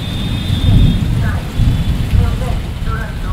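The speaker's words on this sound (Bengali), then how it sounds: "বাইরে খুব সুন্দর বৃষ্টি পড়ছে।" Heavy rain and rolling thunder outside a moving train, a loud continuous roar of rainfall with low rumbling swells and the rattle of the carriage underneath.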